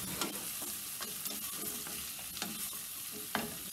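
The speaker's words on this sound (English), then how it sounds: "And I'm going to throw my apple in. Let that cook just for a minute." Apple pieces fry in a hot pan with chilies, a steady dense sizzle with occasional stirring clicks and a sharp scrape near the end, no voices.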